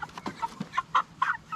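Chickens on a farm on processing day cluck in a quick series of short, close, fairly quiet calls, with no talking.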